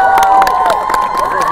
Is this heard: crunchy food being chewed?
no